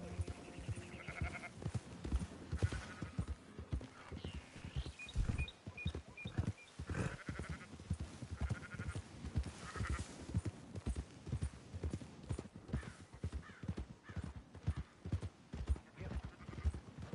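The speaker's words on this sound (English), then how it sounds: "Fine sheep." In a Red Dead Redemption 2 game scene, sheep bleat among steady hoof clip-clops and faint ambient noise, the animal calls rising briefly above the rhythmic plodding.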